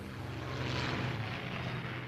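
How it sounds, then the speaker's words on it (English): Focke-Wulf fighter planes depart from a tunnel for the front lines, giving off a steady, loud propeller-engine drone that swells slightly midway and holds throughout, with no talk. "the planes are pushed out of the tunnel and depart for the front lines"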